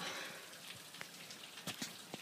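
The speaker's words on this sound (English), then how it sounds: "it just hasn't stopped raining all day" Rain falling outside all day, heard faintly from indoors as a soft steady patter with a few sharper drip ticks scattered through.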